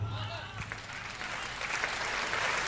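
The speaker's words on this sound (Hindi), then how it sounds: "तालियां कमजोर हैं आपकी" Audience applause at a Hindi kavi sammelan poetry recital, a steady, fairly thin wash of clapping that stays level throughout, with a poet's voice briefly heard over it.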